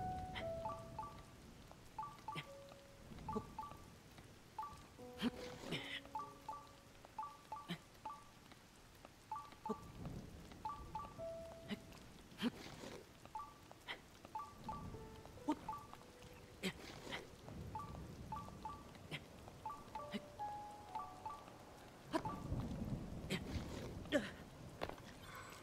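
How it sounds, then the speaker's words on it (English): Rain in the video game Zelda: Tears of the Kingdom, a soft steady patter mixed with game footsteps and repeated short chiming interface tones, with no clear thunder. "I guess we could either wait for this rain to finish"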